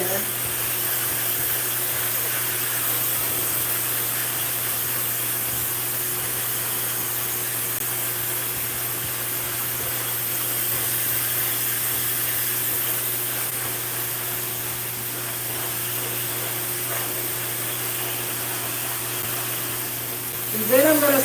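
A hair dryer blowing steadily on damp hair, a constant close whirring hum with a steady tone, running on and on with faint shifts as it moves, and a brief voice near the end.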